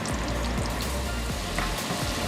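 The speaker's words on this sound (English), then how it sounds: "Melt our butter. And turn down the heat because it's browning very quickly. And I'm going to put in our garlic." Garlic frying in browning butter in a hot pan gives off a dense, steady crackling sizzle that stays close and even throughout, with no voices.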